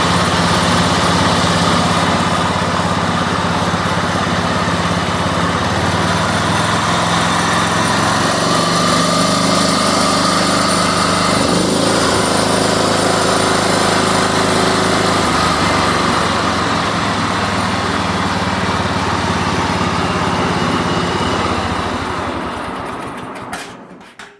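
A John Deere small engine, freshly back together after a carburetor repair, runs at a steady high-pitched drone close by with no talk over it, holding even for about twenty-three seconds before cutting off abruptly at the end.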